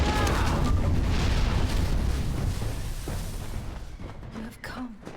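A zealot explodes in the fantasy action game Kingdoms of Amalur: Re-Reckoning, a loud rumbling blast with crackling debris that slowly decays over several seconds, trailed by faint magical shimmering.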